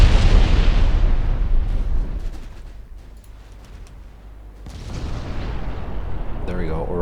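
Heavy naval guns fire in the warship game Ultimate Admiral: Dreadnoughts, a deep booming blast that rolls and fades, followed by a second loud low rumble, with a person talking over the battle noise.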